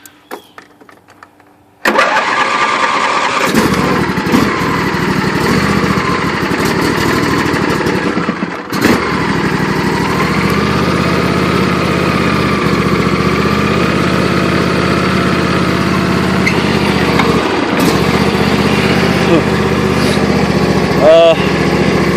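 A small homemade motor bike engine is choked and starts after a short pull, then runs loud and close with a steady, buzzing idle that shifts pitch briefly; a rattle and a voice come through in places.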